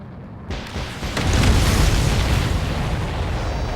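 A loud explosion in the Ace Combat 7 flight game bursts in with a heavy boom that swells into a long, roaring rumble and sustained debris noise, dominating the whole stretch.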